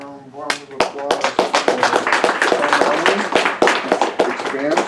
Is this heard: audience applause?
yes